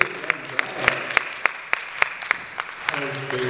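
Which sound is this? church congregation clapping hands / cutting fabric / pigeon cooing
church congregation clapping hands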